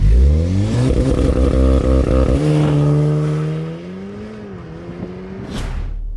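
A modified 367 HP VW Golf R pulls away, its engine revving loudly with a rising, then easing tone as it drives off, ending in a sharp burst of noise.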